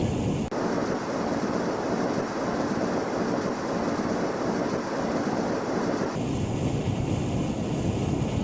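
A rocket engine roars in Kerbal Space Program during an Artemis 1 launch, a steady broadband rumble, loud and continuous, cutting off abruptly near the end and leaving a thinner hiss.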